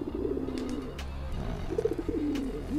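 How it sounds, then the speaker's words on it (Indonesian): A male pigeon coos repeatedly while courting a new grey-red hen in a loft, with rhythmic low throaty coo phrases in two bursts, close by, plus faint background noise. "Nah, ini giringan perdana dengan betina baru, warnanya kelabu merah, ya."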